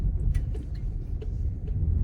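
A car rolls over a badly potholed road, steady low engine and tyre rumble with several small knocks and jolts scattered through it, close and continuous with no talking.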